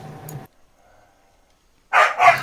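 Dogs barking nearby in two bursts: a short yelp at the start, then after a quiet gap two loud, close barks in quick succession at the end.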